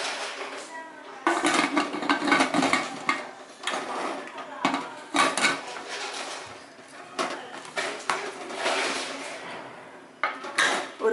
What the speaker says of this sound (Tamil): குக்கரை மூடிடலாம்.